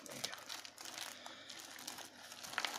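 Plastic packaging from an AliExpress parcel holding an HDMI adapter is crinkled and torn open up close, rustling bursts over a short stretch while a voice talks quietly.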